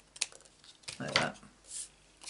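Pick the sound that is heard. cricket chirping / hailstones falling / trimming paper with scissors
trimming paper with scissors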